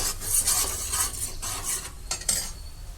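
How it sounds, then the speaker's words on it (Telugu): Masala sizzles in oil while a metal spoon scrapes and stirs it in the pan for chicken pulao, giving close, uneven scraping strokes over a soft frying hiss, with no voices. "ఇది కూడా బాగా వేగి ఆయిల్ సెపరేట్ అవ్వాలండి ఇందులోంచి,"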